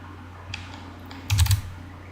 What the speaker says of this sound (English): I'm clearly just typing something wrong.